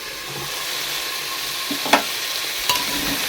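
Turmeric, salt and spices fried in a pan with a steady, close sizzle throughout, broken by two quick scrapes of a spoon as they are stirred.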